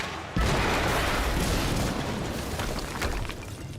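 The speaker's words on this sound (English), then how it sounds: "HQ, we just heard an explosion near the harvesting perimeter." An explosion blowing open an obstacle in the game Quantum Break: a sudden loud boom followed by a long, rumbling blast and debris wash that slowly fades, with no voices.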